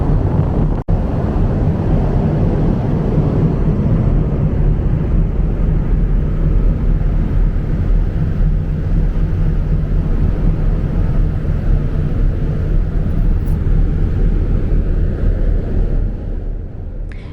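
Steady, heavy wind roars across the open deck of a ferry crossing the Adriatic Sea. The rumble is loud and continuous, with a single sharp knock near the start and no voices.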